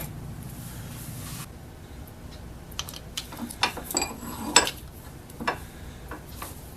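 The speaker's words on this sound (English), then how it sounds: "then we cut it off with a hacksaw" Hacksaw cutting through 1/4 inch steel stock in a home workshop, producing quiet, irregular scraping strokes and faint metallic ticks at low level, with no talking.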